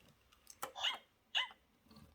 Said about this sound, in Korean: 강아지가 쪽쪽이를 잘못 고는 소리 들리나요?